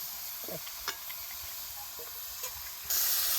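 Hot oil sizzles in a pan pushed beside drumstick pods while cooking a village-style shevga dish, making a steady close hiss with a few small clinks and stirring scrapes.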